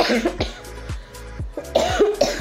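A person coughs repeatedly, close by, in several harsh bursts spread across a couple of seconds, with a throaty clearing quality between them.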